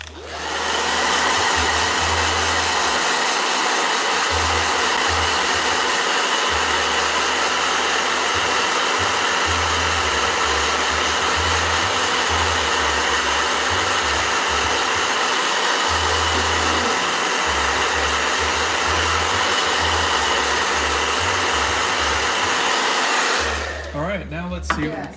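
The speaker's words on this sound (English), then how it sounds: "All right, blow dryer" A blow dryer runs steadily for about 23 seconds, a loud, broadband whooshing roar with a constant motor hum underneath that stays even throughout, then cuts off abruptly near the end of the clip.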